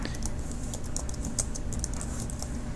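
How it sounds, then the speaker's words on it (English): Rapid, steady keystrokes on a computer keyboard at close range, a dense run of light clicks over a low background hum with no talking. "I'm taking this text again, and I'm going to type down here"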